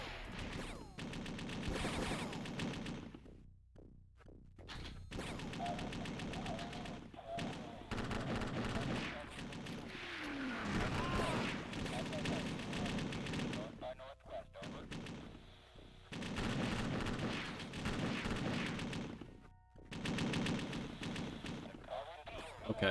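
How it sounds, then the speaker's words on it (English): Explosions from an airstrike and rattling gunfire in a WWII video game, heavy booming blasts and bursts of shots rolling on and off with brief near-silent gaps, and a voice talking now and then under the din. "Maybe I just called it an airstrike"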